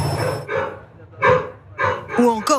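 A noisy pet dog in an apartment building barks close by, four or five sharp, separate barks spaced roughly half a second apart, the last rising into a yelp.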